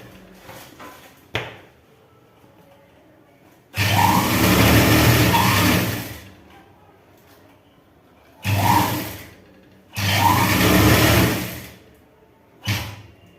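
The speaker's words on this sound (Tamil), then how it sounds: "உருட்டி தைக்காமல் கரெக்டாக தைக்கணும்" A sewing machine stitches a chudi in three loud bursts, one long run of about two seconds and two shorter ones, with quiet pauses between them and a light knock near the start.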